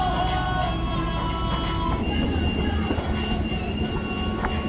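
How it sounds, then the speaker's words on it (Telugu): A historic rail bus rolls slowly between Mathura and Vrindavan at about 20 km/h, a steady rumble of wheels on track with sustained squealing tones and clanks, close and continuous with no talk. "అలాగే ఒక 20 కిలోమీటర్స్ స్పీడ్తోనే ఈ ట్రైన్ వెళ్తుంది"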